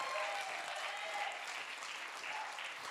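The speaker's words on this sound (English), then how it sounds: "Keep the applause going." Applause from a church congregation at a baptism service, a faint, steady patter of many hands clapping at a distance, continuous and without voices on top.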